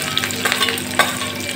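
Sliced onions with chili and garlic frying in a pan for a drumstick-leaf curry, giving a steady bright sizzle with a few light clinks of a spoon, close and continuous, without speech.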